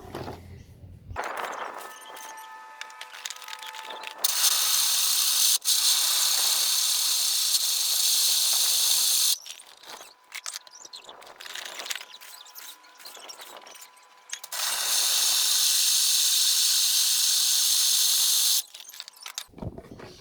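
A grain mill cracks malt for a home brew day, its motor whirring in loud sustained bursts that stop and restart, with quieter clattering and handling sounds in the pauses between runs.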